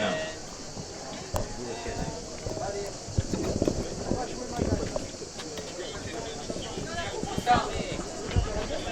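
Horses' hooves clip-clop on hard ground at a Saint Eloi blessing of riders and their horses at Château Gombert, uneven, fairly close steps under a voice speaking throughout.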